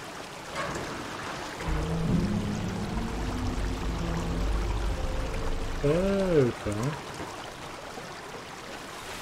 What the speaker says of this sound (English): Okay, so now we got water flowing on this side.